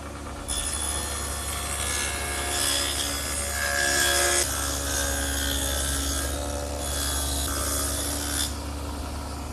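Table saw fitted with an adjustable dado head cutting a quarter-inch groove in wood for a writing desk: a steady loud whine with a high tonal edge, running continuously for several seconds, then cutting off near the end.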